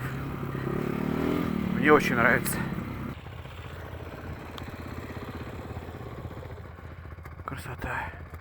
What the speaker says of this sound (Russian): Супер мотоцикл, конечно.